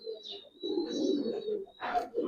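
Giribaz coloring pigeons, a pair sitting on eggs, give low throaty coos in a few swelling phrases close by, with a faint high tone underneath and a short burst of rustling near the end.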